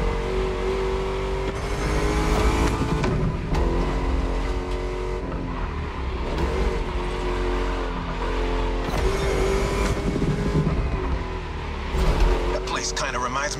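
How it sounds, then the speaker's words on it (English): A V8 engine in The Crew Motorfest racing game revs and drones steadily through a lap, loud and close throughout. Someone talks over the engine noise. "Just listen to that V8, like a chonky, down-tuned guitar riff."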